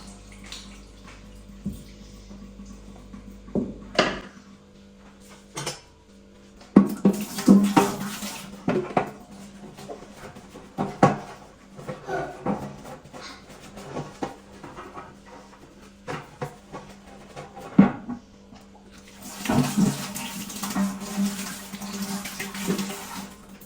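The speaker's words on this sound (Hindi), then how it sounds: "तो आज मैंने सोचा है कि इन ग्रिल्स को भी अच्छी तरह से वॉश करके, ड्राई करके और फिर दोबारा से अपनी जगह पर लगा दूँगी।" Stove grills are scrubbed and rinsed under running tap water in a home kitchen, with water gushing on and off and sharp metallic clanks and clatters of the grills knocking together nearby.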